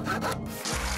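Steady rasping strokes of a saw cutting through wood, sounding close and loud, continuous for about a second in a circus-themed video game where a magician saws an assistant in half.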